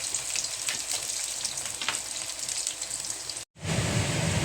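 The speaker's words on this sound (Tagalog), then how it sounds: "Naprito na yung ating patatas at saka carrots" Potatoes and carrots frying in oil in a pan, a dense, steady sizzle with occasional stirring scrapes, loud and close, broken by a brief cut before the frying noise resumes.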